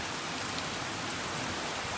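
Cold rain falling steadily outdoors, a dense, even hiss of drops with no pauses, at low loudness.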